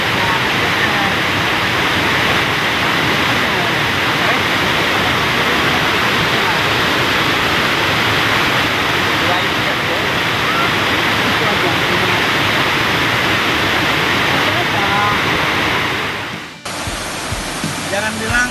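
Bampo waterfall in Aceh Tamiang pours with a dense, steady rushing roar, loud and close throughout, cutting off near the end.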